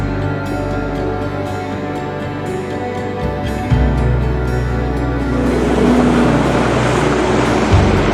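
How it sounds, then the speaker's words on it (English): A Sea-Doo jet ski engine on a quiet lake drones steadily and grows louder as it approaches, with a rough rising hum and water churning beneath it. "so quiet except for the sound of that Sea-Doo coming towards me back there"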